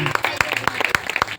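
A church congregation at a Good Friday service claps together, a burst of scattered hand claps with irregular sharp hits over about a second and a half, moderately loud and close.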